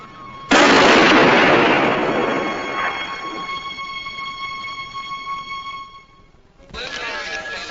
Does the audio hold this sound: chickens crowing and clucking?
no